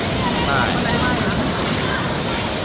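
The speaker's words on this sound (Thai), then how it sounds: "แต่คลื่นมันโหดมากอ่ะ" Heavy surf pounds Suluban Beach at Uluwatu, Bali, a loud, continuous roar of crashing water mixed with wind buffeting the microphone, and a voice is faintly heard underneath.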